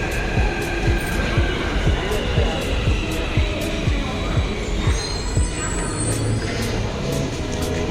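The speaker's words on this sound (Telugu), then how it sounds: "ట్రైన్ వచ్చింది" A train pulls into a station with steady rhythmic wheel clatter over rail joints and a hiss of air brakes, while people talk nearby throughout.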